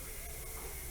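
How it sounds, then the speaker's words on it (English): Spick and Span cleaner is sprayed onto a carburetor in a continuous, close, loud hiss lasting about a second, with no pauses. "We're going to spray some Spick and Span on here"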